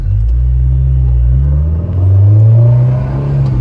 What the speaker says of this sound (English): This little car, it's so dramatic because it just like keeps climbing and climbing.